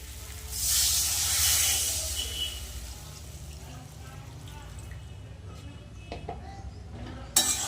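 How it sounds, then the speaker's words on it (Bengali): Water poured into fried spice masala for a rohu and hilsa fish curry hisses in a loud burst that fades to a quieter simmer, followed by a few light clinks of a pot. "মশলা ভালো করে কষানো হয়ে গেছে আলুও সিদ্ধ হয়ে গেছে দেখো এবার জল দিয়ে দেবো"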